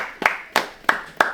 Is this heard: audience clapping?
yes